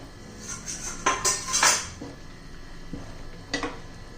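A lid lifted off a cooking pan of vegetable curry, with a few sharp metallic clanks and clatters of metal cookware close by, spaced irregularly against a quiet kitchen background.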